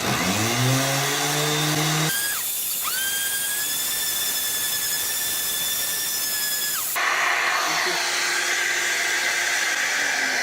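A power sander with 80 grit sandpaper works wood, a loud whining motor whose pitch rises at start-up, then holds a steady high tone with shifts as load changes against the surface.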